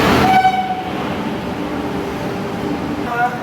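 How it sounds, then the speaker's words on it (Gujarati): A passenger train pulls into a railway station on a trip to Goa, its rumble filling the platform loudly while a horn tone sounds briefly at the start and again near the end. "તો અત્યારે ભાઈ ટ્રેન છે જે આવી ગઈ છે."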